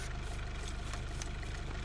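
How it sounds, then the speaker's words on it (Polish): Powerful engine of a Tigr military vehicle in the Squad video game, a steady low idling rumble with faint knocking, continuous and fairly close, with no talk over it. "Tylko tu jakiś potężny silnik."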